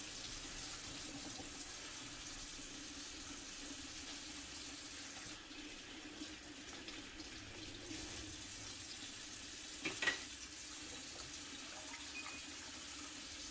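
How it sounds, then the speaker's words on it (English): Water runs steadily from a tap in a quiet, continuous stream, with a brief clink partway through. "Okay, cold water now."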